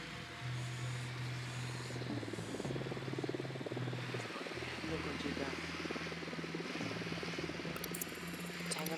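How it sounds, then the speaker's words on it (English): A drone airborne in the Ghost Recon Wildlands video game, a constant rotor-like drone and whir layered over a busy, dense game soundscape with steady low engine hum throughout. "The drone is airborne."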